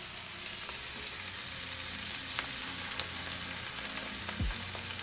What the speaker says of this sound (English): So I'm going to add that garlic now.